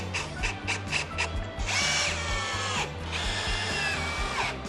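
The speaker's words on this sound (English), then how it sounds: "So we are using outdoor wood screws for the attachment." A power drill drives outdoor wood screws into a DIY wooden outdoor lounge chair, with a close whirring motor in short pulses and then longer sustained runs, plus a grinding bite as each screw sinks into the wood.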